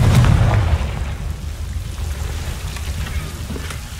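A Confringo blasting spell cast in the Hogwarts Legacy game, opening with a loud low boom that rolls into a sustained crackling, rain-like rumble fading slowly over a few seconds.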